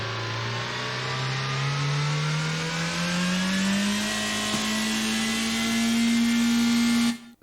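Simulated car engine in a Unity drift game revving steadily upward in pitch for about seven seconds, loud and continuous with a faint shift partway, then cutting off abruptly.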